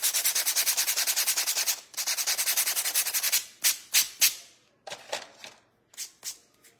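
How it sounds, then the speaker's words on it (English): A painted wooden letter M is sanded by hand in fast, rhythmic rasping strokes, first a steady run of back-and-forth scrubs, then slower, separate swipes that trail off, close and clear. "we're gonna sand the M just a little bit"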